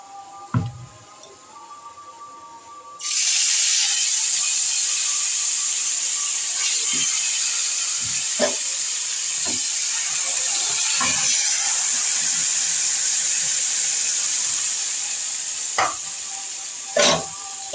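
Chicken pieces drop into hot oil with whole garam masala spices and set off a sudden loud sizzle that carries on strongly, with occasional clatters of a spoon against the pot.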